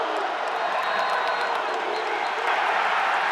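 Football crowd at Paulson Stadium, Georgia Southern, roaring ahead of a third down against Southern Miss: a dense, loud, continuous wall of cheering that swells slightly toward the end.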